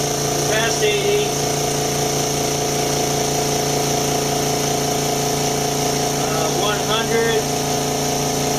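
A Makita MAC700 Big Bore 2.0 HP air compressor runs with a steady, loud mechanical hum and whine throughout, while someone talks over it.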